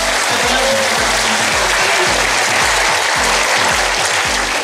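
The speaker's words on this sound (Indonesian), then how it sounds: "kami mohon tepuk tangan yang meriah untuk kehadiran beliau" A graduation ceremony audience gives a guest professor loud, dense applause that fills the hall steadily from start to finish, with a low hum running beneath the clapping.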